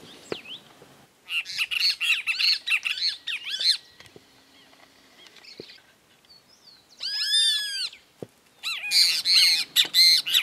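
Doves and other birds call in open country near Esperanza, Santa Fe, Argentina, with bursts of loud squawks and bright chirping phrases separated by short pauses, close and clear with no talking.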